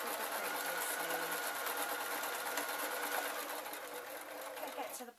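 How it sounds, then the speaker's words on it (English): A sewing machine stitches a seam on a baby outfit made from a pillowcase, running in one continuous close whir that eases slightly near the end, with faint talk in the background. "I'm just lining it up to the previous seam"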